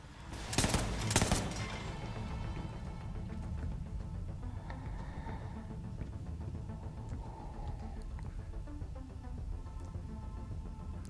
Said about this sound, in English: This gun has a fast fire rate, but it's not super powerful